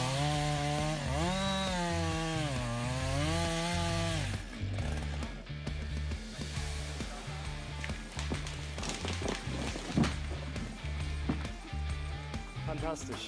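A big, powerful chainsaw cuts into a tree. A wavering, high-revving engine whine gives way to choppy, pulsing cutting noise that stays fairly close and loud throughout.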